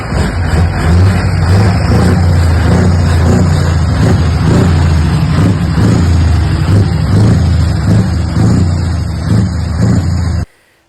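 A Scania R560 V8 truck with its exhaust flap removed runs with a loud, deep, throbbing open-exhaust rumble that holds steady and close for about ten seconds, then cuts off abruptly.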